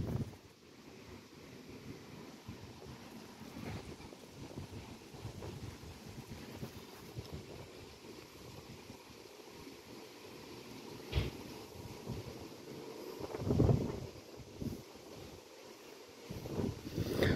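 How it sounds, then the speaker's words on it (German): Scattered wind gusts buffet the microphone on a balcony, a low rumbling roar that swells now and then, with stronger bursts near the end and no talking. "Es sind nur Sturm, also vereinzelte Windböen sind das du."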